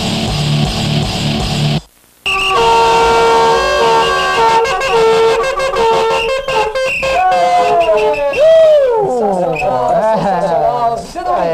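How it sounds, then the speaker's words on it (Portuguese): A small plastic horn blown by a football fan during a World Cup gathering gives repeated shrill, bending toots, loud and close, mixed with crowd voices and chatter in the background. "Essa corneta aqui, ó."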